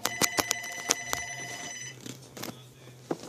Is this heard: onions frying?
no